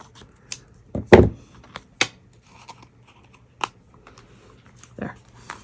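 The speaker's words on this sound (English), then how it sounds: "I'm just gonna trim that bottom card just a bit so that it matches" Scissors make a few sharp snips as the bottom edge of a paper card is trimmed, heard as isolated close crisp cuts separated by quiet pauses.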